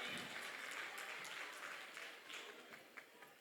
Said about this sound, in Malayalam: കുട്ടക്കുറുമ്പന്മാർക്കൊരു നല്ല കൈയടി കൊടുത്തേ